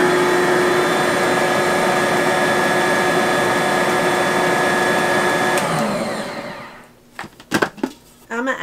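A Bosch stand mixer runs with a steady, loud motor whine mixing zucchini bread batter, then shuts down and winds to a stop, followed by a few clanks.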